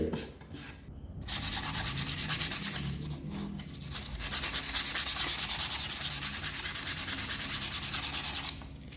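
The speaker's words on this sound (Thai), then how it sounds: "กระดาษทรายละเอียดนะครับเพื่อนๆขัดไปเลย" Steady rhythmic scratching of fine sandpaper rubbed back and forth over wood filled with chalk putty, close and continuous, with a couple of brief pauses.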